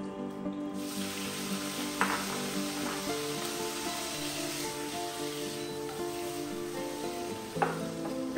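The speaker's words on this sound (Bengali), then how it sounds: "আলুতে একটু ভাপানো আছে, ওটাকে একটু ভেজে তুলে নিই" Parboiled potatoes fry in hot oil, giving a continuous close hiss and sizzle with a couple of sharp clinks from a utensil, and no voices.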